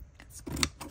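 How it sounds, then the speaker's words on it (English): Scissors snip a paper moth out for a journal, with a few quick, close, crisp cuts in under a second. "Cut the moth out."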